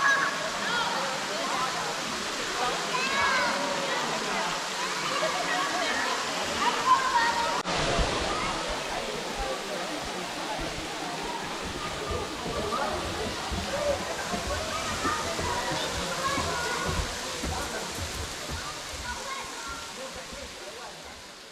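The waterfall at Ash Cave in Hocking Hills, Ohio, fed by a small creek, gives a steady broadband rush that continues throughout, with a crowd of people talking nearby.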